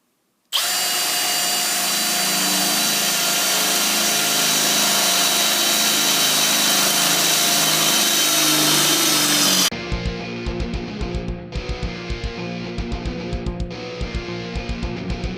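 Milwaukee M18 cordless hammer drill drilling under load, a loud steady high whine for about nine seconds, then a rougher pulsing, chattering run with brief dips, heard up close without speech.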